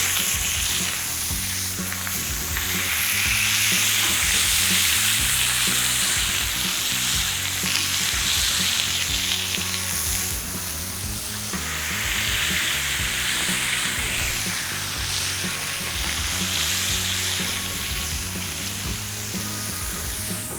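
A thin smashburger patty of ground chuck pressed with onion sizzles loudly on a hot surface, a dense continuous crackle that swells and eases in waves, close and alone without any talk.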